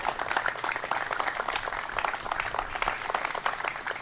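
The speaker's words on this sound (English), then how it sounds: "Let's give them a round of applause here now." Crowd applause honors Vietnam veterans at an outdoor groundbreaking for a new Vietnam War Memorial in Piedmont Park, a moderate, continuous patter of many hands clapping without pause.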